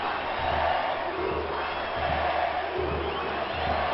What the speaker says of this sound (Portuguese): A torcida se levanta